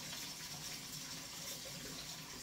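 Tap water pours steadily into a sink as cooking pots are washed, a continuous close splashing hiss with no talking.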